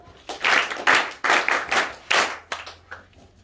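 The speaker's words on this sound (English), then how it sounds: "Let's clap for them." A run of hand claps in short bursts, several people clapping together nearby, with brief pauses between volleys and no talking.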